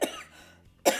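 Two short, sharp coughs close to the microphone, separated by a brief quiet pause.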